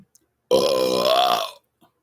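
A single long, loud belch from a person, deep and croaking with a steady rasping tone lasting about a second, alone against near silence with small clicks before and after.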